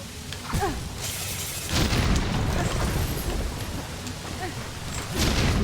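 Explosions in the video game Hollow Knight: Silksong, several muffled booms and bursts spread through the clip among other game effects, with a person talking over the gameplay.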